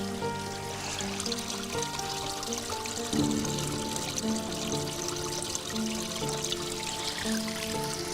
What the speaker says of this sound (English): I can hear the sound of running water